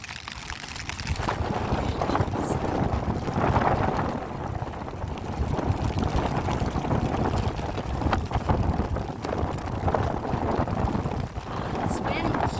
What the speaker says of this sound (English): This wind's driving me nuts.